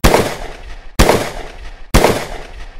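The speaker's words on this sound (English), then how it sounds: "Six guns crash as bandits suddenly invade the quiet of a small western town." Three loud, evenly spaced six-gun shots ring out, each followed by a short echoing tail, during a bandit raid on a small Western town.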